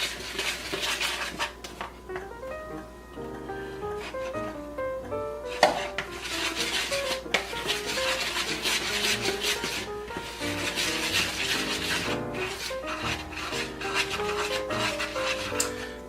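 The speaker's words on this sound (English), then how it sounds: "I like to add like half or a third and then just mix it in first" Flour is being mixed into cookie dough in a bowl, making continuous scraping, stirring and clinking of a utensil against the bowl, close and moderately loud, under soft background music.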